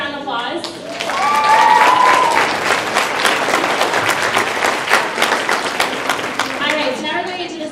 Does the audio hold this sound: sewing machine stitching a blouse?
no